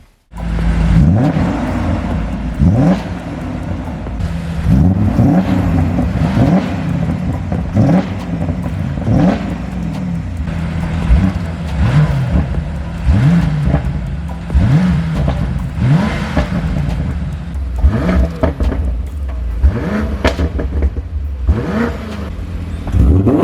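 An E39 BMW M5 engine pulls hard on the road, its note rising again and again through repeated upshifts, loud and close with steady road and wind noise underneath.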